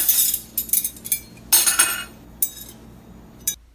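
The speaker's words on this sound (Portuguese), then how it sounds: "do ruído familiar de louças e talheres se batendo" Dishes and cutlery clink and clatter together at a family table in brief irregular bursts, with sharp metallic and ceramic chinks separated by short pauses, close and fairly loud.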